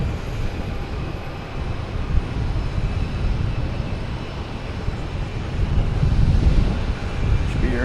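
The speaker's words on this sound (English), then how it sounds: "next off we have a Delta heading to San Francisco, an A321 Neo" A Delta Airbus A321neo bound for San Francisco takes off at Boston Logan Airport, its engines a loud, steady roar that swells slightly near the end, mixed with gusty wind noise on the microphone.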